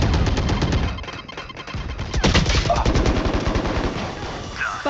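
Rapid video-game gunfire in bursts of machine-gun shots throughout, loud and close, with a brief lull near one second before heavy firing resumes.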